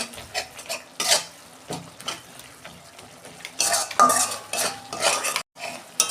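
Spice paste with dried chillies being stirred and sautéed in a pan, heard as close, repeated metal spoon scrapes and clinks against the pan over a soft frying sizzle, with brief pauses between strokes.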